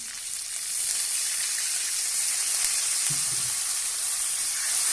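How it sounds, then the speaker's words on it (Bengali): Ground cumin, coriander, garam masala, turmeric, salt and crushed ginger sizzle and hiss loudly with a splash of water while being stir-fried, a dense steady frying hiss with a brief soft knock midway. "জলটা দিয়ে মশলাটাকে ভালো করে একটু কষিয়ে নেব।"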